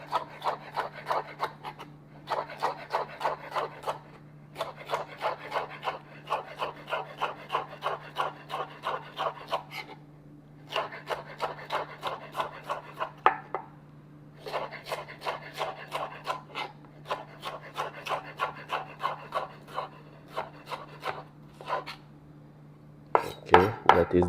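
A knife slicing an orange bell pepper on a board, with rapid, steady chopping strokes in bursts separated by short pauses, close and crisp over a low steady hum.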